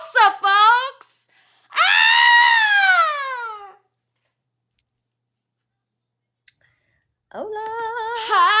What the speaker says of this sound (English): I screamed real loud.